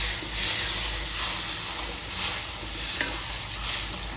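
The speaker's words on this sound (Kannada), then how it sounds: "ಹೆಸರು ಬೇಳೆನ ಹಾಕಿ ಇದಕ್ಕೆ ಮಿಕ್ಸ್ ಮಾಡಿ" Moong dal gets stirred into spiced beans in a hot pan, making a continuous sizzling hiss with a few swelling scrapes and one sharp clink, close and without talk.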